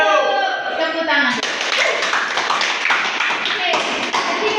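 A class of schoolchildren claps hands together in a classroom, a short burst of mixed claps with children's voices chattering and calling out over it throughout.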